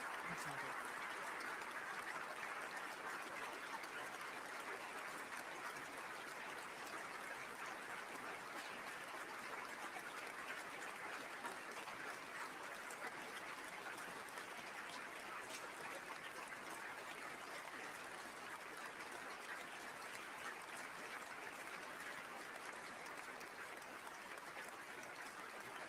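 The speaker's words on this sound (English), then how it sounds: "And the applause continues." Guests applaud at the Nobel Peace Prize ceremony in Oslo City Hall. The clapping is dense, even and sustained, spread across a large crowd and heard at some distance, with no voices over it.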